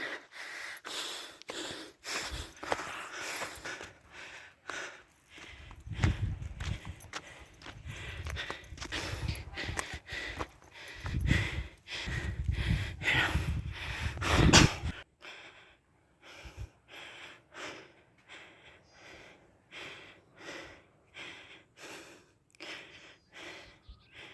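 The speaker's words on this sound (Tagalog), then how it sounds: "Grabe ang hingal ko." A hiker breathes heavily, panting in rapid rough huffs and gasps while climbing Mount Panit in Vinzons, Camarines Norte; the breaths are close to the microphone, stronger for the first fifteen seconds and softer afterward.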